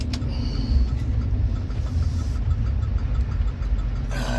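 A vehicle drives along with its engine running, a steady close low rumble and road noise continuing throughout with no talking.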